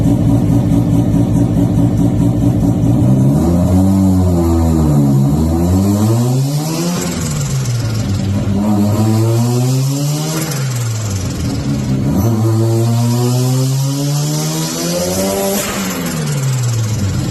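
A rotary-swapped Subaru BRZ engine revs hard again and again on a dyno, pitch sweeping up and down through repeated pulls, loud and close, with no voices.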